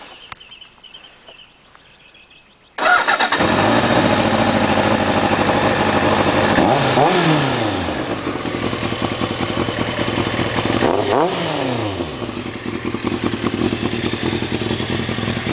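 Revving of a 2001 Kawasaki ZX-6 with a Vance & Hines full exhaust system, heard close and loud as the engine fires after a quiet moment and roars steadily, rising through two distinct throttle blips.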